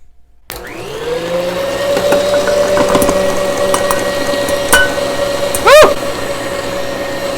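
An electric mixer whirs steadily through madeleine batter, a close, constant motor hum that spins up at the start, with brief clacks and a short pitch wobble as the beaters shift in the bowl.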